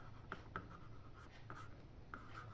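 A pen scratches on paper while working a class 10 maths exercise, with short strokes in an irregular rhythm, close but faint over a quiet background and no talk.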